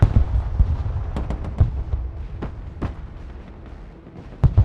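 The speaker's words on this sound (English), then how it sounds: "Damn mortars." Mortar fire in the military strategy game Broken Arrow, a scattered series of sharp booms and distant thuds, some close and loud, others softer, with irregular gaps between them.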